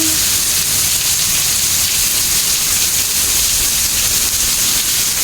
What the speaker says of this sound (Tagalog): Kasi yung ulan.